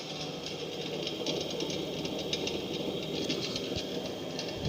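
A motor-driven gyroscope disc spins at about 860 RPM, giving a steady, faint mechanical whir and hum with a fine rattling texture throughout, no talk.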